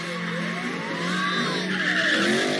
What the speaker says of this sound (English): So look at these two cars doing donuts.